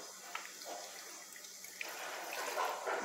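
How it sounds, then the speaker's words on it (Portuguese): Coconut water being poured into a glass for a chayote, kale and ginger detox juice, a soft continuous trickling stream that grows fuller toward the end, fairly quiet. "Vou colocar aqui um copo de água de coco."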